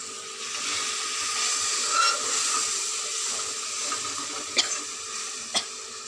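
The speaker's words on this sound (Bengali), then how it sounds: "একটু জল দিয়ে দিলাম যাতে মশলাটা না পুড়ে যায়।" Water poured onto spices frying in a pan, a steady steaming sizzle and hiss throughout with a couple of light utensil taps near the end.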